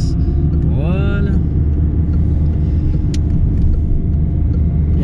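A car accelerates during a driving lesson, a steady low engine rumble with a brief rising rev sweep early on, heard from inside the cabin.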